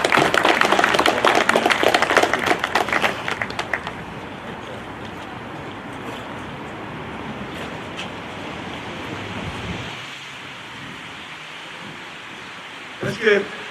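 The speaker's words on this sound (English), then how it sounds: "Let's give our Grand Marshal another round of applause." Outdoor applause at a Memorial Day ceremony in East Orange, a dense burst of clapping for the first few seconds that thins out, leaving wind noise and a faint murmur of voices.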